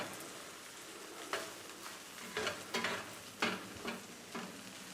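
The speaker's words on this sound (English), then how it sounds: "but this time over low heat. You're going to add your eggs." Eggs cook in a pan over low heat, a soft sizzle with several scraping stirs of a utensil at irregular intervals, close by with no talking.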